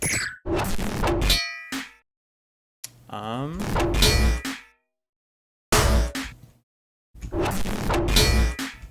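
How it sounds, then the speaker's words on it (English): A pitched-down snare drum sample from an electronic production, heavy metallic clanging hits in separate bursts with silent gaps between them, loud and up front. "Same snare, I believe, just pitched down."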